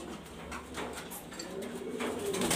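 Grizzle racer pigeons coo softly in a steady, low murmur that runs throughout, a flock kept close by with overlapping calls and no clear pauses.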